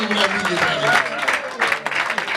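A church congregation claps and cheers in a brief, continuous burst, with voices calling out over the steady wash of hands.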